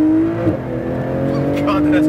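A Porsche GT2 RS accelerating on a race track at EXR Las Vegas: a steady, strained engine drone rising in pitch with a short dip at a gear change, with a voice talking over it.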